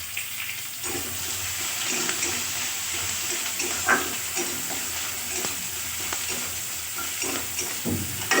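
Chopped onions frying in hot oil in a home kitchen, a continuous bright sizzle with occasional stirring scrapes and clinks, close and steady throughout.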